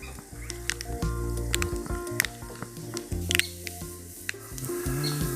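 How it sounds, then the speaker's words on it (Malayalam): Mustard seeds splutter in a little hot coconut oil in a pan, giving scattered faint pops and crackles over a low, steady background hum. "ഇത്തിരി വെളിച്ചെണ്ണ ഒഴിക്കുന്നു, കുറച്ച് കടുകിടുന്നു"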